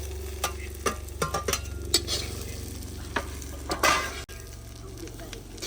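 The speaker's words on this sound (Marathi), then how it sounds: "सर्व मसाला आपण एकत्र परतून घेत आहे" Onion, coconut and peanuts frying together as a masala in a pan for Maharashtrian masvadi, a steady sizzle with repeated scraping and stirring strokes and occasional clinks of the utensil.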